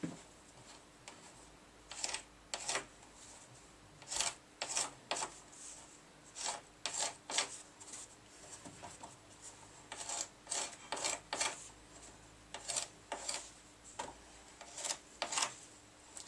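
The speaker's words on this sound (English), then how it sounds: "I'm going to do it while it's cloth, just with a razor blade. I'm going to trim around there and make it look a bit tidier." A razor blade trims scrim cloth in a garage, giving repeated short dry rasping strokes in irregular bursts, close and fairly quiet, with no talking.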